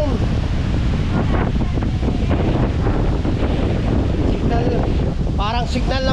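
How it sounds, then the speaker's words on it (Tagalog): Strong wind buffets the microphone in a constant loud roar, with a voice faintly speaking near the end. "Ang lakas ng hangin."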